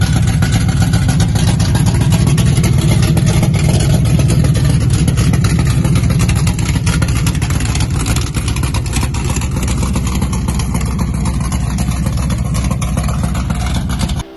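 A 1973 Plymouth Road Runner with a big block engine runs steadily, a loud, close, continuous rumble that eases slightly in the second half, with no talk over it.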